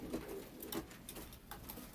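Healthy Teddy and Rampuri pigeons give soft low cooing, faint and fairly near, repeating through a quiet background with no talking.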